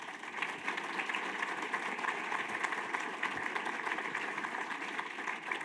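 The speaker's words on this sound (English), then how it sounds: "Let's give him one round of applause." Attendees at a development forum give a speaker a round of applause, a steady, fairly even wash of clapping from a roomful of people, moderately loud and sustained throughout.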